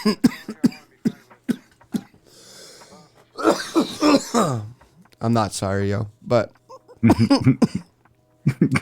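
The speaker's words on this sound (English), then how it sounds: "it's like weed cough" Several bursts of harsh, rough coughing from smoking weed, close to the microphone, broken up by someone talking between fits.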